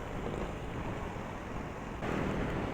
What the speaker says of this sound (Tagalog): Napakalakas ng ulan dito for sure, sobrang lakas ng hangin.